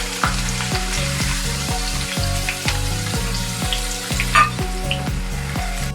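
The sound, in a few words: onions frying in oil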